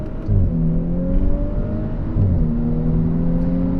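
Engine of a 2019 Audi S4 heard from inside the car while driving at speed, a steady droning hum with tones rising through the gears, a brief dip at a shift, loud and continuous with no talking.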